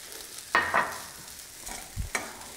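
Tomatoes stir-fried into Thai-style fried rice in a hot pan, a soft continuous sizzle broken by a few distinct scraping stirs, close and moderately quiet with no talking.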